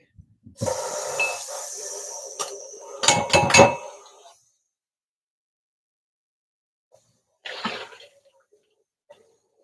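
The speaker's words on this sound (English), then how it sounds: "The only thing we need to add is our cashews, which we have soaked. I'm just going to rinse these real quick." Soaked cashews are rinsed under running water, giving a hissing splash with clinks for about three seconds, then a brief second burst of water after a pause.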